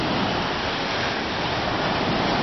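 Ocean surf rolls onto a sandy beach on the Gold Coast, Australia, a dense, continuous roar of breaking water mixed with wind, loud and close with no voices.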